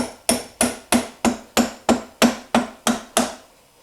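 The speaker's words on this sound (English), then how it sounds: "We're just gonna tap it. We've got a small mallet." A small mallet taps a Ducati Multistrada V4 axle through the wheel during a tire change, with about ten sharp, evenly spaced knocks at a steady rhythm. The knocks are close, each decaying quickly, with no talking.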